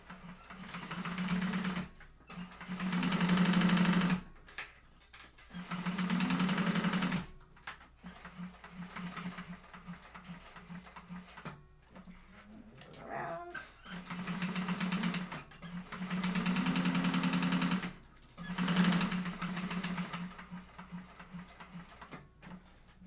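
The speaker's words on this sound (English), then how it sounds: "So I'm gonna sew mine with about a 3/8." Sewing machine stitching fabric with roughly a 3/8-inch seam allowance in a sewing class, running in steady buzzing bursts of a few seconds each, separated by short pauses, close and fairly loud with no talk.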